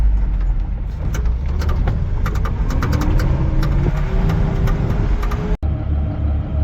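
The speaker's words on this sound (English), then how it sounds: "we are back in the tractor here" Tractor engine running steadily on the drive home after a slurry-spreading run, a loud continuous low rumble with no talk, briefly cut out near the end before resuming.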